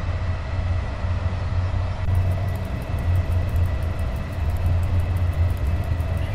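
An EU07 electric locomotive hauling six passenger cars in the train simulator SimRail, a continuous loud rolling rumble with steady low drone and faint rail noise, no talk.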